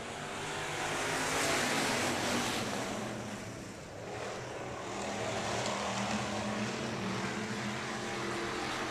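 Factory stock race cars rumble together at Heart of Texas Speedway during a Friday night heat race, a steady broad engine roar swelling slightly and dipping mid-way, continuous with no speech.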